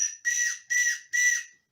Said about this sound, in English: a whistle out of a cracker,